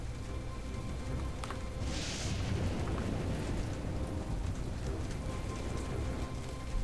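A tropical storm in a video game brings steady, dense rainfall hammering down with a deep rumble of thunder underneath, continuous and fairly loud, and no voices.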